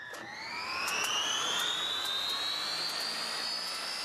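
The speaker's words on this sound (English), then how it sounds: "This is the engine that's found in the Sea King helicopter." A Sea King helicopter turbine engine spools up, its high whine climbing steadily in pitch over a loud, constant rushing roar.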